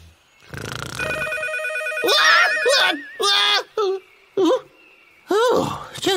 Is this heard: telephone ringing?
yes